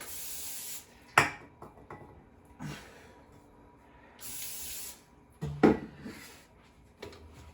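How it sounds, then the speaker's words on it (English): Olive oil cooking spray hisses onto a vegan chicken patty over a sink in several short bursts, with rubbing and handling noises between the sprays. "Now I've got some cooking spray. It's an olive oil cooking spray. And I need to spray this both sides."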